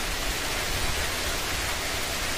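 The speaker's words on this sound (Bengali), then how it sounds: "এখনো আকাশে মেঘ, গুড়ি গুড়ি বৃষ্টি।" Soft, even hiss of light rain falling continuously, a dense wash of fine drops with no breaks or voices.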